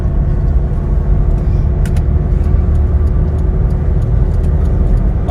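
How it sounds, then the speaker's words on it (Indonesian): A diesel car, an SUV-class model, pulls forward under light throttle in a high gear. Its engine gives a steady, even low rumble throughout with no sharp revving. "Ini kita coba gas pelan-pelan, jadi tidak dilakukan akselerasi"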